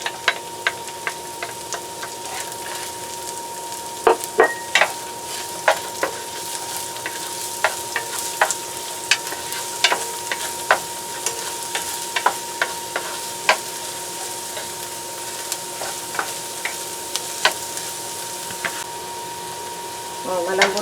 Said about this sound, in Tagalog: Lalagyan natin ang ating sibuyas.